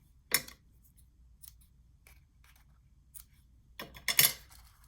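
Scissors cut paper for a small chocolate box treat holder in a few separate sharp snips, one early, a couple of faint ones mid-way, then a louder double cut near the end, with no talking.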